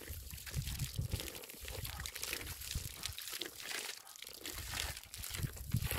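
Melamchi drinking water runs from a spout beside a trail from Sundarijal toward the Melamchi dam in Sindhupalchok. The stream splashes and gurgles unevenly at a fairly quiet level, with no talking over it.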